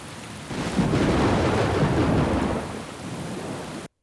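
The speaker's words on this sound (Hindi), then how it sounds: "जूनियर, बाहर बारिश होने लगी है।" Steady rain of a thunderstorm pours down close by, rising into a loud, broad rumbling roar after the first half second and holding for several seconds before cutting off abruptly.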